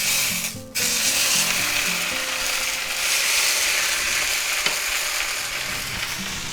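Ham hits a hot pan with a brief thump and bursts into a loud, steady sizzle that hisses on continuously, with a faint scrape partway through.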